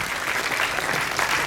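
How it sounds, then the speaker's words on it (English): An audience at a career counselling session claps for the host school in a brief, dense burst of applause. "Can we once last time clap for the school right now?"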